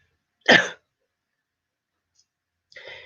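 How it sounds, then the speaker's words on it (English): A single sharp cough, close and loud, followed by silence and then a softer throaty noise. "I'm really sorry about this coughing"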